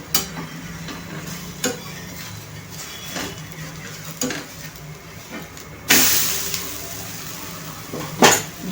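Besan poli cooking on an aluminium tawa with about ten or twelve drops of oil, a steady soft frying hiss with occasional scraping and tapping of a spatula, and a brighter, louder sizzle near the end.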